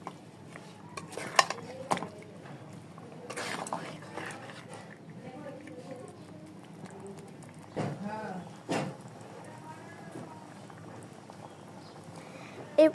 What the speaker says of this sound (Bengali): মশলাটা ফুটে আসলে এর মধ্যে দিয়ে দিতে হবে মাখিয়ে রাখা চিকেন দিয়ে এবার খুব ভালো মতো আবার নাড়িয়ে নেব।